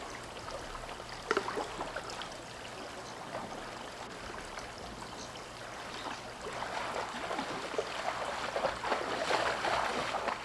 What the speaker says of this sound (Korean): 호수 쪽보다 수심이 얕고 물살이 빠른 개울 쪽이 연어잡이엔 훨씬 유리하다.